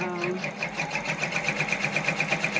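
An embroidery machine stitching a left chest logo runs with a fast, steady mechanical whir and rhythmic needle ticking close by, while a person talks over it.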